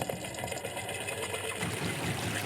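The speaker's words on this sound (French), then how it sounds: "Le bateau, le moteur tourne." A boat's outboard motor runs on a river in Brazil, a steady buzzing whir heard close and fairly quiet, with water noise underneath.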